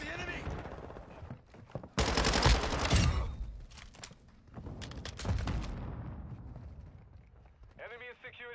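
Gunfire in a shooting video game: loud bursts of rapid fire and explosive blasts come in clusters over game noise, with short radio-style voice lines between them.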